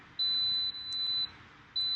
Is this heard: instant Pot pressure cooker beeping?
yes